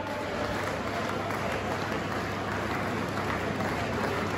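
Crowd applause rings out at a World Bee Day celebration at IBDC Ramnagar, Kurukshetra, Haryana, a dense continuous clapping of a large audience, loud and close, holding steady throughout.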